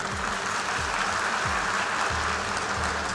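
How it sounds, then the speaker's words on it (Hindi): An audience at a semiconductor summit applauds during a speech by PM Modi, a dense, steady wash of crowd clapping with no talking. "आप ताली इसलिए बजा रहे हैं कि मैं गया था या इसलिए कि वापस आ गया?"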